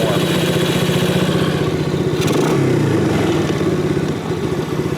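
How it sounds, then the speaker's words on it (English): A Venom 125cc Python gas ATV with a 4-stroke engine idles steadily at its factory idle setting, a close, loud, even chugging with a brief flutter midway, and no voices. "you'll notice that the idle speed on the bike is pretty much at the factory setting"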